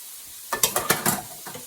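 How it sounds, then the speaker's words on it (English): Stock poured into a sizzling garlic turkey stir fry in a pan, giving a burst of several loud hissing, spattering sizzles that fade out over about a second. "Adding the stock. We just added the stock there."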